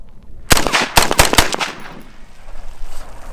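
Rapid video-game gunfire from a weapon with no recoil, fired while testing weapons on an oxygen bottle at a frozen lake; several sharp bursts of shots close together, loud and alone, trailing off into a quieter tail.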